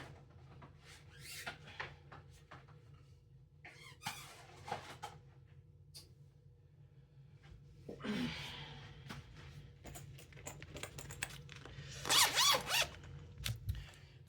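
A zipper is pulled around an Ultra Pro zip binder holding Pokemon cards, with soft handling rustles, then a longer ripping zip run and a final burst of quick zipping, close and quiet in a still room.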